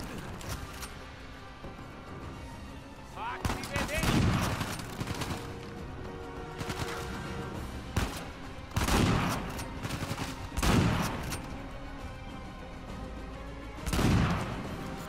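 Shotgun blasts in the video game Uncharted 4, several loud, heavy booms spaced a few seconds apart over a busy layer of combat noise, with no talking.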